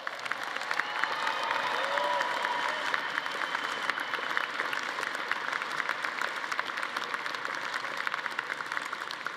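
An audience at a Colorado State University liberal arts commencement applauding the Honors Scholar graduates, with sustained crowd clapping and some murmur, swelling early and then holding steady.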